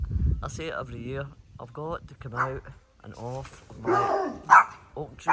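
Dogs bark in short, sharp bursts in a garden while someone talks over them, the barks scattered through her speech and fairly close.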